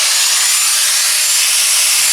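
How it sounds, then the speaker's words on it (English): A power tool cuts through the sheet-metal outer fender of a 1968 Triumph TR250 during restoration, making a loud, steady high-pitched grinding hiss that runs unbroken throughout with no talk. "we're just trimming out the outer fender to match the inner"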